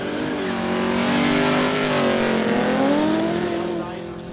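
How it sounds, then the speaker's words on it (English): A carburetted workshop ute runs at a Quick Street drag day in Kooralbyn Valley, its engine note droning steadily and rising and falling close by for several seconds before easing off, with crowd chatter mixed underneath. "gorgeous little shop ute, little carby shop ute"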